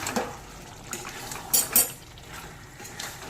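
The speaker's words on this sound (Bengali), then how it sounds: "এবার ঢাকা খুলে একটু নেড়ে নিচ্ছি" A lid comes off a pot of chicken and a spoon stirs it, with a few clinks of metal on metal and soft wet shuffling, two sharper knocks in the middle, no talk.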